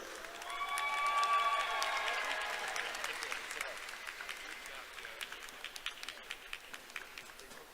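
A large commencement crowd at Tennessee Tech University's December 2021 ceremony bursts into loud, dense applause for the graduates, with whistles and cheers at first, then the clapping gradually thins and fades.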